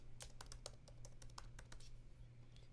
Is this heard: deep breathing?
no